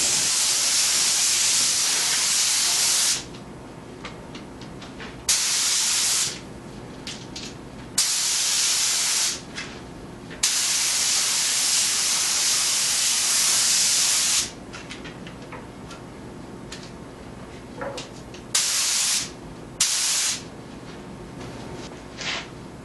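Spray gun applying a Sherwin-Williams Sherwood waterborne final top coat, loud steady hissing bursts that start and stop repeatedly, several passes of a few seconds each with quieter gaps between.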